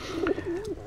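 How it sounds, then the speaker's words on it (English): Pigeons at an incubating nest on a bird cam coo in a single soft, close, wavering call lasting under a second. "the pigeons came back"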